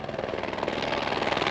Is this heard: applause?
no